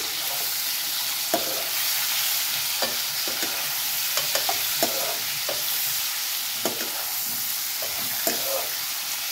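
Potato slices tipped into hot oil tempered with asafoetida and turmeric and stirred over a medium flame give a steady, close sizzle with scattered sharp clicks and scrapes of the spoon against the pan.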